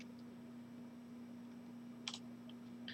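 A computer mouse clicks once on a sign-in button, a single soft, quiet click in an otherwise near-silent room with a faint steady hum.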